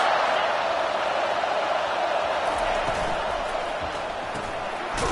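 A steady, dense roar of a stadium crowd in the college football video game CFB 25, loud and continuous throughout with no distinct individual voices.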